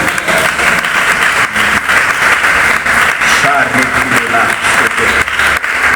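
A church congregation applauds steadily and loudly throughout, a dense continuous clatter of many hands with voices mixed in beneath it.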